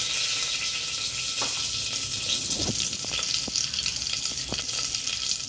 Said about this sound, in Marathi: त्याच्यामध्ये थोडासा कढीपत्ता घालते। आणि थोडे गॅस राई घालते, थोडे जिरं,